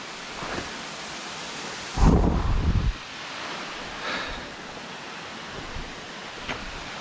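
A waterfall roars steadily in a hidden forest spot in Keonjhar, a constant rushing wash of falling water. A louder gust of noise breaks through briefly partway in, and no one speaks.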